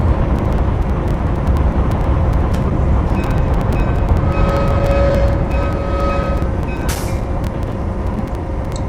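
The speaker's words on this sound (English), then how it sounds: "That's the train brake." A train brake in the Train Simulator video game on a virtual New Haven line releases a sharp burst of air hiss over a steady locomotive rumble, with faint tonal hums in the background.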